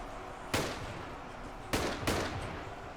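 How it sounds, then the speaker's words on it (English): Gunshots ring out in the Ultimate Epic Battle Simulator video game, three sharp cracks with short decaying tails: one alone, then two close together a moment later, over a low game background. "Ooh! Popping Santa in the head"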